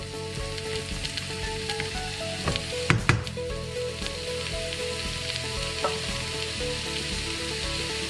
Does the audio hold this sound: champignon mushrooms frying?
yes